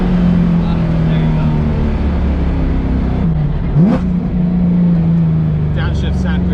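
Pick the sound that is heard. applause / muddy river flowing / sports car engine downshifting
sports car engine downshifting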